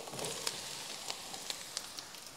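Zucchini fries in a pan with softened onion and chili, a quiet steady sizzle with a few sharp crackles and spatter pops, close but faint, no talking.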